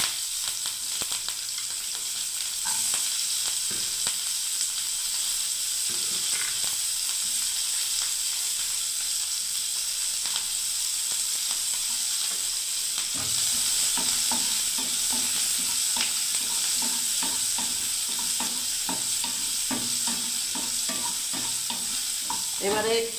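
Chopped onions fry in hot oil with curry leaves, a steady close sizzle with repeated stirring scrapes that become busier toward the end, no voices.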